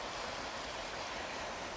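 Snowmelt trickling near a winter wilderness cabin, a soft, constant hiss of running water with an even level and no talking.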